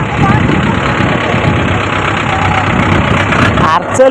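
A vehicle engine idles close by in a crowded spot at a temple during Guru Purnima, giving a loud, steady low rumble that runs throughout under the crowd's chatter.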